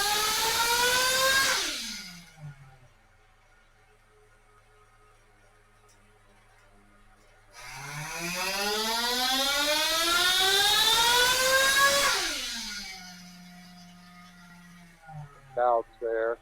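A motorcycle engine fitted with an OS 2090/2100 exhaust pipe revs on a dyno in two loud pulls, each climbing steadily in pitch before dropping back to a low idle, ending with short blips.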